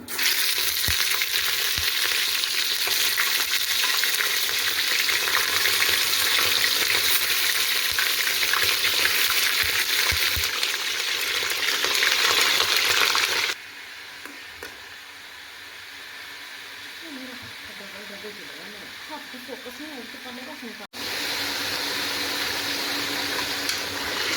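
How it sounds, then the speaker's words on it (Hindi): Chicken pieces fry in hot oil for a spicy pickle-style chicken dish, a loud, dense, continuous sizzle that drops to a quieter bubbling midway, then surges back to full strength near the end. "हमारा ऑयल अच्छे से गरम हो गया है। अब इसमें शामिल करते हैं चिकन।"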